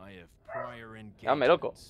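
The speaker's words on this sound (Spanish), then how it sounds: "Perdón por el perro, de verdad, es que como está lloviendo está muy nervioso." A dog nervous because of rain barks and yips sharply in two bursts close by, heard under and between a man's speech.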